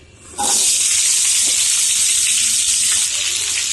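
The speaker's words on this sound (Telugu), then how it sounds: "ఇప్పుడు ఆయిల్లో ముందుగా కట్ చేసుకున్న దోస ముక్కలు అయితే వేసుకుందాం" Loud, steady sizzle of cut cucumber pieces dropped into hot oil in a kadai, bursting on abruptly and holding a constant bright hiss for several seconds.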